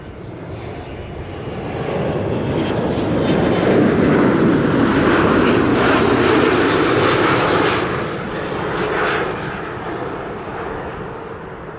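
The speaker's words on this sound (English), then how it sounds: "I'm also hearing a helicopter." A helicopter's steady, loud drone swells and fades over several seconds near Amsterdam Schiphol Airport, a continuous rumbling roar with no voices present.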